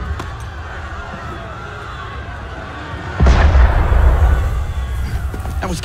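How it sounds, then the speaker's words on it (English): Cannon fire in the video game Assassin's Creed Unity lands as a single heavy boom with a deep rumbling tail, following a stretch of quieter crowd and ambient noise. "That was cannon fire."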